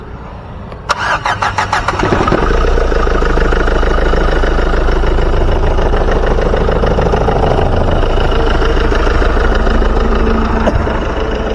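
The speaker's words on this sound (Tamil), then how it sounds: "வண்டியோட இன்ஜின் சவுண்டை பார்த்தீங்கன்னா நம்ம லைவாக கேட்போம்" A 1.5 litre dCi diesel car engine cranks and catches, then settles into a loud, steady idle with a low throbbing rumble close by.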